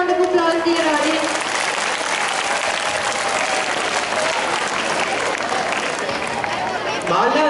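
Loud, sustained audience applause at a school farewell function in Udaipur, following a dance performance. Dense clapping fills the whole stretch with crowd murmur, and voices or cheers rise at the start and end.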